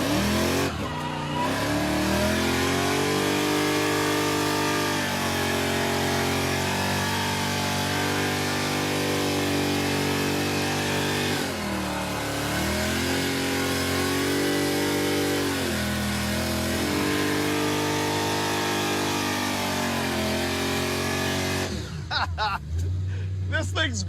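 A fuel-injected Chevrolet Impala roars loudly under hard acceleration, its engine revving steadily for over twenty seconds as the tires spin from a roll, with the pitch dipping and climbing before it cuts off near the end; voices are faintly present.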